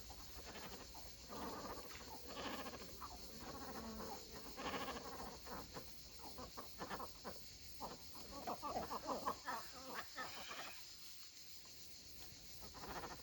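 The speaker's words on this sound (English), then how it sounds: "So we've got cormorants, egrets, herons." Colony of cormorants, egrets and herons in the south of France gives off a mix of croaks, squawks and harsh calls, some close and some farther off, overlapping irregularly across the scene.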